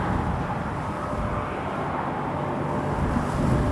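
A Jordanian airliner rolls for takeoff on runway 05 at Toronto Pearson, a broad steady roar of jet engines heard from a distance, loud and continuous with no voices.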